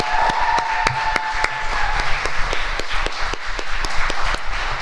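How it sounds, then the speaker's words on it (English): Closing round of applause for awardees at a National Honor Society induction and awards ceremony: a small audience claps in a steady, sparse run of sharp hand claps in a reverberant hall. "Let's have one more big round of applause for all the awardees."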